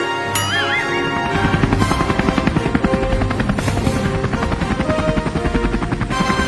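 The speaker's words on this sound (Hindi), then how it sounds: "अरे हमारे गांव में हेलीकॉप्टर" A helicopter's rotor thumps steadily and loudly overhead, a dense mechanical chop layered with engine whine that holds for several seconds.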